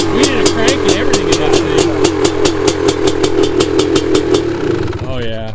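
A Honda CR500 two-stroke motorcycle engine runs loud and close with a fresh rebuilt motor, its even revs pulsing rapidly before it drops off near the end.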